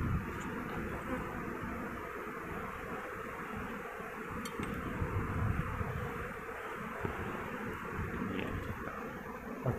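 Bees buzz around an open beehive box in a village while a man lifts out the honeycomb for harvesting, a continuous, dense swarm hum close by with light wind noise.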